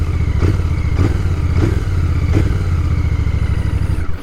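Royal Enfield Bear 650 motorcycle engine idling and revving up close, a loud throbbing parallel-twin rumble with a regular pulsing beat and several sharp blips of the throttle, no voices.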